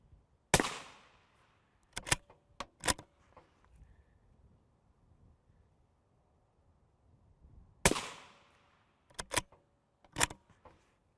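An M855 rifle round strikes a Spartan Armor Hercules Xtreme Level IV plate: two sharp gunshot cracks several seconds apart, each followed by quick clattering echoes and rattles that fade into near silence.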